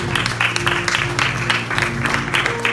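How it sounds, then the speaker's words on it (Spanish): Congregation applauding at a church service, a steady wash of clapping throughout with a low sustained musical tone underneath. "Denle un aplauso por eso."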